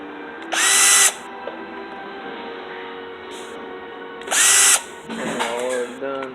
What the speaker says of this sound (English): Let me grab a cordless, hold on.